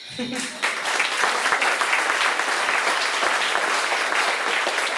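An audience at a memorial tribute to André Schwarz-Bart applauds in a thick, sustained wave that starts just after a brief voice and carries on steadily to the end.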